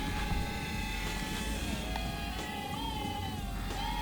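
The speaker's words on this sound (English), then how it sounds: "It's just a simple drone that flies really well." A Syma X22W FPV camera drone in flight, its small propellers giving a steady high buzzing whine with wavering pitch, continuous and fairly close throughout.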